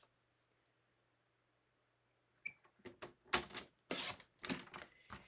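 A paper trimmer slices through card stock after a quiet pause, producing a quick run of sharp clicks and scraping strokes of the blade, close and fairly loud.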